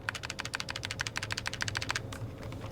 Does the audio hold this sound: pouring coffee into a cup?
no